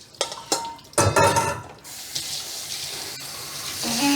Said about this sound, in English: I'm just going to rinse it in cold water.